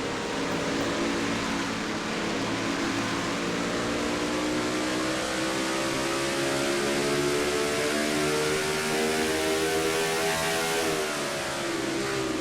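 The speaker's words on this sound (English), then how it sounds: "Riding in the back bumper of Cole Deaver's machine" Stock cars race around an oval track in a racing video game at about 155 miles per hour, a steady loud engine drone that climbs gradually in pitch for the whole stretch with no break.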